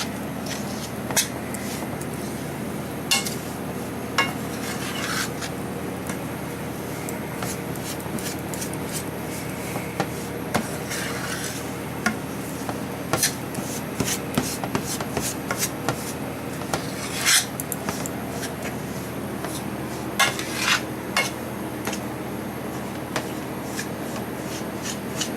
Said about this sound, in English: Mixing it up real good, making sure that the brown sugar is incorporated with all of the butter